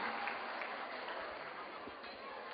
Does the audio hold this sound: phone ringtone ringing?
no